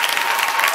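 Church congregation applauding during a sermon, a steady wash of dense clapping close by that holds evenly throughout the short moment.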